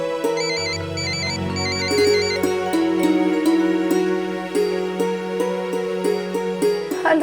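A phone ringtone plays a repeating melodic chime pattern, loud and close, looping several times with no one speaking.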